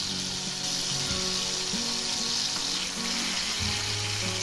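Dried bangda mackerel frying in a pan for a green chutney, a constant close hiss of sizzling oil with a few faint scrapes, no voices.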